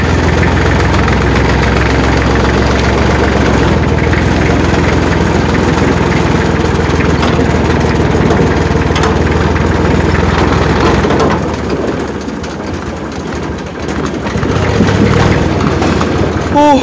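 An older IMT 533 tractor, fitted without a thermostat, idles steadily to warm up, a loud low chugging drone that fades partway through with faint talk over it.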